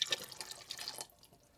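Vegetable broth is poured into a can to rinse out the last bits while making a low-fat plant-based minestrone soup: a brief, close trickle and splash of liquid that fades after about a second.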